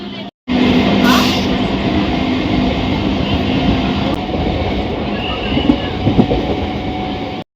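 A train at a railway station on the Naihati–Bandel line rumbles steadily and fairly loud throughout, with faint clatter and occasional squeal, after a brief silent gap at the start.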